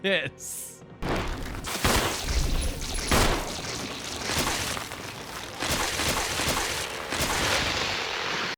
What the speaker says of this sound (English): Is that my last shotgun shot?